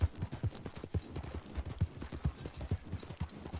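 In the video game Red Dead Online, a horse's hooves clip-clop in a steady, close, rhythmic gait with distinct repeated thuds throughout.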